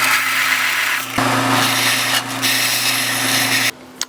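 Steady, loud whine of a power tool grinding galvanized coating off steel bolts ahead of welding on extended tie rod ends; close and continuous, briefly dipping twice, then cutting off near the end.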